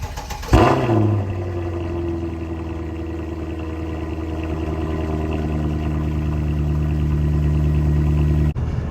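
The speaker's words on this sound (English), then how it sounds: "It is quite loud cold start." A modified Mercedes C63 AMG engine cold start: cranks and fires, jumps to a loud high idle, then settles into a steady rumbling idle that continues for several seconds before cutting off.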